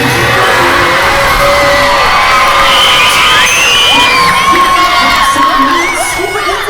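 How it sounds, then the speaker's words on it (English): A sixth-grade school assembly crowd of children cheers, shouts and whoops loudly for the blue team, a dense continuous roar of young voices that holds steady throughout and eases slightly at the end. "Make some noise for your blue team."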